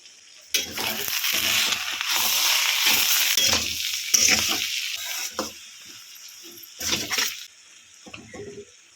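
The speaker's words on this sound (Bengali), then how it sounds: "লাউয়ের খোসাটা ভাজা প্রায় হয়েই গেছে" Steady sizzling from a pan as bottle gourd peel fries, with intermittent scraping and stirring clatters, no talking.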